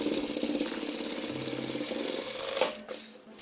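A sewing machine stitches a side seam of a square zipper pouch, running steadily in a fast, even rattle for a few seconds, then stops with a faint clunk.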